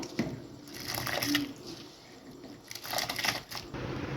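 Water boiling with dal for katte pongali, a soft bubbling, ticking patter that rises and falls in bursts, fairly quiet and heard alone without talk.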